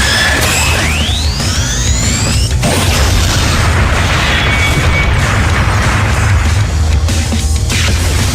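A missile explosion in the video game Liberation Maiden: a rising whoosh sweeps upward, then a sharp blast lands about two and a half seconds in, followed by a dense, sustained rumble of loud game noise.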